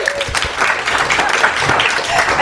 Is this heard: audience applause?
yes